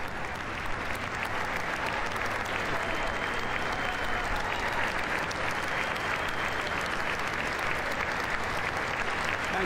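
Lawmakers in the House chamber, Democrats and Republicans alike, give the president a sustained standing ovation, a dense and steady roar of many hands clapping that fills the room without letup.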